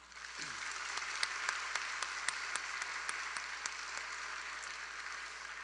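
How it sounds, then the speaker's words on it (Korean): A church congregation claps together during a Sunday worship service, a faint, distant wash of many hands with scattered sharper claps standing out over a hushed room. "함께 응원하는 마음으로 함께 박수합니다"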